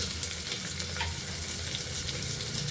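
Chopped onions and masala sizzle in hot oil for a pulao, a steady close crackle with faint stirring scrapes throughout.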